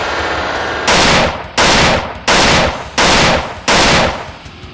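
Gunfire from the horror video game Cry of Fear: five loud, sharp shots at a steady, spaced rhythm, each with a brief decaying tail, over a constant background hum.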